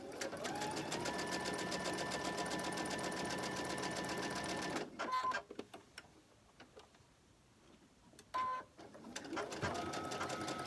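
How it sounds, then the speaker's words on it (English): A sewing machine stitches quilt pieces in fast, even runs, a close steady whir with rapid ticking, stopping for a quiet pause with small handling clicks before starting up again. "I'm going to go ahead and sew this here."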